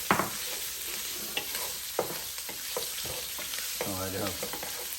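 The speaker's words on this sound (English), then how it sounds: "I'm going to put my sausage in. Saute that up nice and good." Sausage sautéing with cabbage in a pan makes a constant close sizzle, with regular scraping strokes from stirring running through it.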